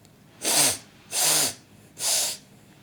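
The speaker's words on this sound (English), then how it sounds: "That's the sound of Dad blowing his nose because he is sick today" Three loud, forceful nose blows from a sick man, each a broad hissing honk about half a second long, evenly spaced and close by with no talk.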